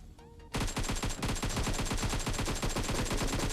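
Rapid automatic gunfire from the video game PUBG Mobile erupts after a brief quiet moment and then rattles on loudly and continuously, with a dense, evenly spaced stream of shots.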